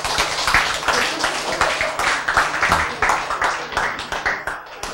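A group in a Korean talk or class on meaningful living and health claps together, a quick, fairly even run of hand claps, close and lively, with no talking over it.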